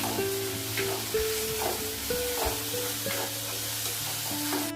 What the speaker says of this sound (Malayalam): കൂടെ തന്നെ പച്ചമുളകും കൂടി ഇട്ട് തക്കാളി നന്നായിട്ടൊന്ന് വഴഞ്ഞു വരുന്നവരെ ഒന്ന് മിക്സ് ചെയ്ത് കൊടുക്കാം.